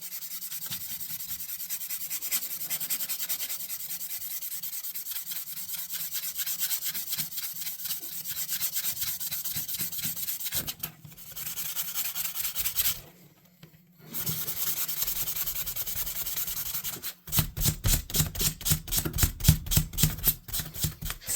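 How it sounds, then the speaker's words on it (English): A Sabre fish knife rubbed down with 2000 grit sandpaper, a close continuous rasping that runs in steady strokes, pauses briefly, then speeds into fast rhythmic back-and-forth scrubbing. "Going to go over everything with 2000 grit"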